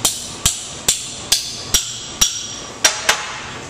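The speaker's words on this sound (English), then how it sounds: "Brass hammer." A brass hammer taps steel handlebar parts, the mounting bung and uprights of a bent bar, in eight sharp, ringing metallic strikes, close and fairly regular with a slightly quicker pair at the end; no talking.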